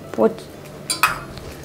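Onion, capsicum and paneer pieces stirred together in a pan, with a few short metallic scrapes and clinks of a spoon against the pan, spaced out and fairly close.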